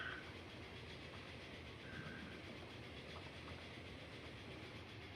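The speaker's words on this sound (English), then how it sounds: "I believe that is a French train." A French train rolls past in a tropical-shores map of Transport Fever 2, a steady rumbling and rattling of rail wagons that holds for the whole stretch with faint tonal whines overhead and no talking.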